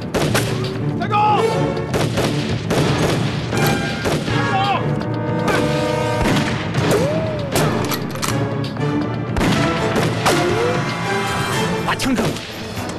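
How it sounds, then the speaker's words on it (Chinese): Gunfire in a Chinese war drama set during the Japanese occupation, loud sharp shots and crashes in a busy, dense mix with shouting voices and other action sounds. "枪声，"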